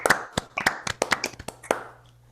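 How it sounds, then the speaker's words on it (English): A few people clap over an online call after a tech talk on service workers: sparse, uneven hand claps, close and distinct, scattered across a couple of seconds before fading out. "let's all unmute ourselves and give Derek a big round of applause"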